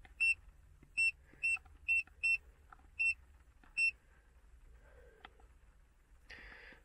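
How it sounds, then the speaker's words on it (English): Short, sharp electronic beeps from an Ancel VD700 Volkswagen diagnostic scanner, about seven clean tones spaced unevenly over several seconds, close and clear against a quiet room, followed by faint handling noises. "maybe turn off the beep"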